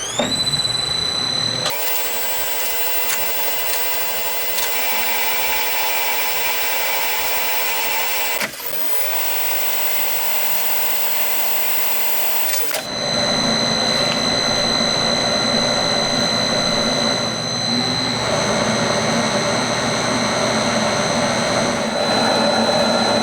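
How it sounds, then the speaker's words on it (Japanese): A metal lathe cuts a screw thread in steel while machining parts for a small four-cylinder engine. The machine whines and hums steadily and loudly throughout, with a sharp change in tone partway through, and no talking. "ではネジ切ってきます。"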